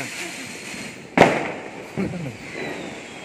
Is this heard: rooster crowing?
no